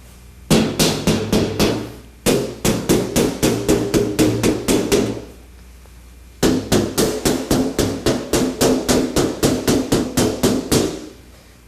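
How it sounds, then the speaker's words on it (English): A rawhide mallet taps a sheet metal car door panel resting on a sandbag, in two long runs of rapid, evenly spaced sharp knocks separated by a brief pause, close and loud. "Then I finished up with this rawhide mallet"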